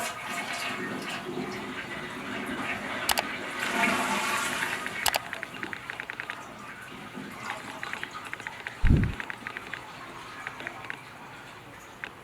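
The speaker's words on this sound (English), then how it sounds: "We're going to flush the toilet and get all the water out of" A toilet flushes to empty its water, a loud rushing gush rising and draining over several seconds, then settling into a fainter trickle and refill, with a brief low thump near the end.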